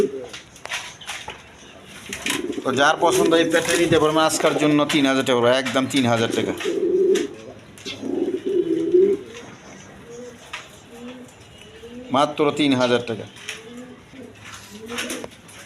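Domestic pigeons at a pigeon sale coo in rolling, repeated bursts close by, heard under someone talking, with quieter coos between his phrases.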